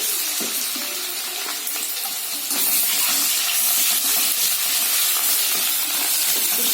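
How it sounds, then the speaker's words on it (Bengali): Grated garlic and ginger frying in a generous amount of hot oil, a steady close sizzle that grows louder and denser partway through, with faint scrapes of stirring and no talking. "এবার তেলের মধ্যে আমি রসুনটা দেবো। রসুনটা আমি গ্রেট করে নিয়েছি, আদাটাও দেবো।"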